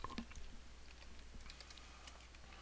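Brief run of quiet keystrokes on a computer keyboard while a component name is entered, light close clicks with no speech.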